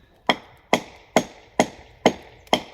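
Six sharp, evenly spaced hammer blows drive 5-inch nails into a very hard tree trunk, each strike ringing loud and close with a short decay, no voices.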